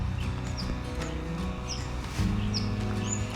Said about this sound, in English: Bee-eater. That bird there. You can hear it calling?